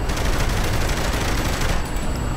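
Dense, continuous volleys of gunfire pour onto a building in Saints Row: The Third Remastered, a steady loud rattle of many overlapping shots with no talking.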